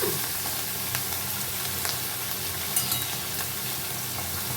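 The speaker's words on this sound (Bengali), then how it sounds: "গরম হওয়ার পরে মাছটা আমি এর মধ্যে দিয়ে দিলাম।" Prawns frying in hot oil in a pan, a steady broad sizzle running throughout with a few faint clicks of stirring; a voice speaks briefly near the start.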